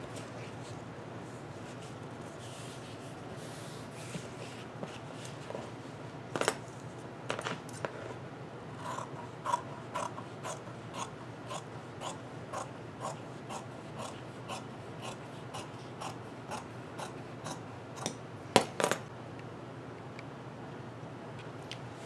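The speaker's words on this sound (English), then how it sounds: "And fold this in half and cut it in half again." Scissors cutting through stiff placemat material, a faint series of crisp snips in an irregular rhythm over quiet room tone, with a couple of louder cuts near the end.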